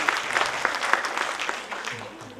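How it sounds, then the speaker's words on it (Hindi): Audience clapping at a school's annual function, a brisk, fairly close round of applause that gradually softens, with a low hum entering toward the end. "तो जोरदार तालियों के साथ स्वागत कीजिए।"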